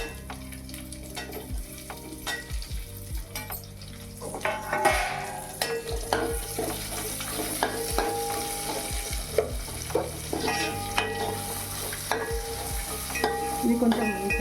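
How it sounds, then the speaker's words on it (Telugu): Onions frying in a pan for soya tomato pulao give a steady close sizzle, with a spoon repeatedly stirring and scraping the pan and occasional metallic clinks. "ఇది కొంచెం చాలా ఫ్రై కావాలి. ఉల్లిగడ్డ ఫ్రై అయింది కొంచెం."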